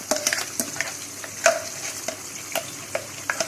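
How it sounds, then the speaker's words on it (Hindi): Ground masala paste for a shahi chicken korma goes into a hot pan and sizzles, with sharp scraping clicks from stirring scattered over a soft, steady frying hiss. No one speaks. "सारे मसाला जात ये सारे हम इसमें ये डाल देंगे।"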